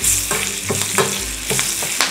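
Curry leaves, dried red chillies and lentils spluttering in hot oil for a tempering, a close, loud crackling sizzle with quick pops and stirring bursts, no voices.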